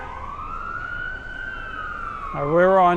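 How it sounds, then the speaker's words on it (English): A wailing emergency vehicle siren sweeps slowly on a Brooklyn street along New Utrecht Avenue, loud and close, switching to a faster yelp pattern near the end amid city traffic noise. "More sirens."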